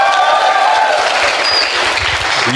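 Congregation at a church retreat clapping hands together in a loud, close, dense burst of applause that carries on throughout.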